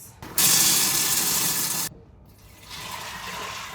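Tap water runs hard into a container for cooking a pound of beans, a loud steady gush that stops abruptly, then after a short pause a softer stream of water follows.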